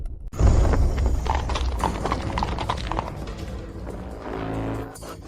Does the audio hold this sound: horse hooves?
yes